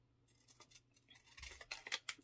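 Scissors snip through paper in a quick series of crisp, close cuts that grow louder and more frequent toward the end, with no talking.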